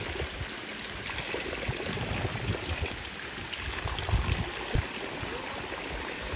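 Cold mountain water flows in a stream near Malana village in Himachal, giving a continuous rushing trickle with small splashy surges. It runs steadily throughout, and no talk is heard.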